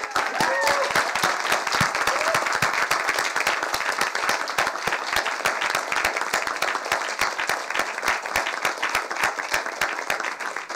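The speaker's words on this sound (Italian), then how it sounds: "Un applauso per i neodottori." Sustained applause from a crowd at a university graduation ceremony, dense steady clapping filling the whole stretch with a few voices faintly mixed in.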